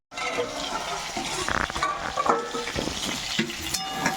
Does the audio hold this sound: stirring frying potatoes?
yes